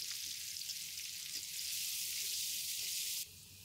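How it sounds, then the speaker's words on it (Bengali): Chopped onions fry in the oil left over from frying rohu fish, giving a bright, even sizzle that is fairly quiet and steady. The hiss drops off noticeably near the end, and there is no talking. "ওই তেলে আমি পেঁয়াজ কুচি দিয়ে দিলাম।"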